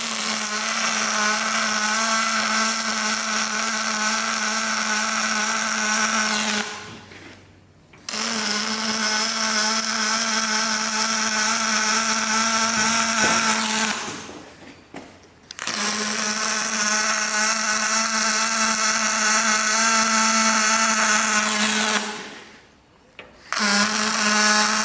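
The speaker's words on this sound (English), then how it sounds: "So we're running at about 160 amps there. We're welding 5mm 6mm." Welding on an aluminium boat frame at about 160 amps, 5 to 6 mm material, gives a steady, loud buzzing hum in three long bursts separated by brief pauses.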